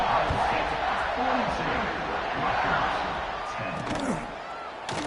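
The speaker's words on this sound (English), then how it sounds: "this crowd is buzzing after that last score" A steady, dense roar from a video-game American football stadium crowd buzzing after a touchdown in an Ohio State versus Rutgers match, filling the whole stretch as a continuous wash with a slight dip toward the end.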